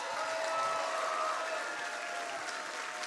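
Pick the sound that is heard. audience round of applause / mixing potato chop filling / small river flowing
audience round of applause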